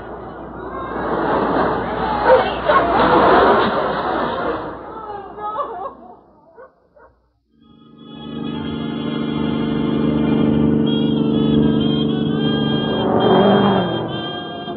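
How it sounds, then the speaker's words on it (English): A car sound effect from a 1954 radio drama: a car engine roars with crowd chatter. After a brief silence, a fast car drones steadily and close up, with a revving swell near the end. "I wish you wouldn't drive so fast, Tom."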